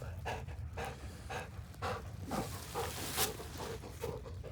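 Faint, quick rhythmic panting of a dog after a long run, steady short breaths repeating throughout.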